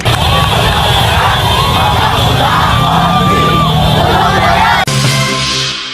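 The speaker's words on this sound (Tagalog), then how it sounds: "Ito ang sigaw ni Vice Ganda ngayong hapon sa malaking protesta sa EDSA" A large crowd at an anti-corruption protest rally on EDSA in the Philippines chants and yells loudly in unison in Filipino, continuous and dense, with a sudden shift near the end.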